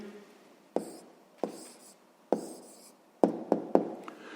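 Pen or pencil strokes writing down the answer to a sixth-grade math problem on rectangle area, heard as about seven short, crisp scratching bursts in an irregular rhythm, close and fairly quiet, with no talking.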